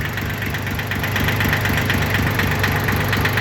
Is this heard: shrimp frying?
no